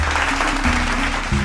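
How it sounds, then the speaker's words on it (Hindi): Audience applause at an Indian government Swachh Bharat Mission rural training event, honouring the Prime Minister and the Lieutenant Governor, a dense steady clapping wash with low sustained tones beneath, continuous through the short stretch. "ताली बजा दीजिए"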